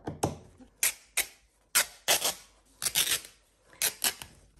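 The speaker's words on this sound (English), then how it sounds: "So I will cut a strip off the front." Scissors snip a paper strip for a junk journal in a series of about ten crisp, close cuts in irregular pairs and clusters, with no talking.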